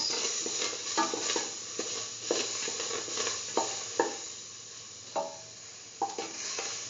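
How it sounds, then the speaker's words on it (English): Food for a sweet banana semolina soup sautéing in a pan, a soft continuous sizzle broken by regular scraping strokes of a stirring utensil, close and moderate. "Keep on sauteing."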